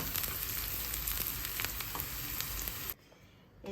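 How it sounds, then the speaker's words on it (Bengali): Onion and green chilli frying in a little hot oil, a loud steady sizzle with crackling pops that cuts off abruptly near the end. "কাঁচামরিচ দিয়ে পেঁয়াজটাকে একটু হালকা তেলে ভেজে নিই"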